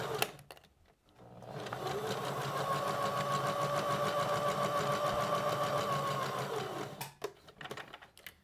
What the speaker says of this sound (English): making sure those seam allowances are locked in place, and stitching right over them